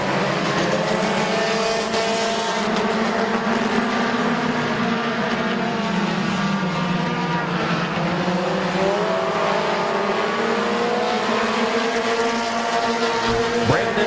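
Race cars roar around the oval at Midvale Speedway, a dense, continuous engine drone with shifting pitch as cars pass in traffic, loud and close throughout.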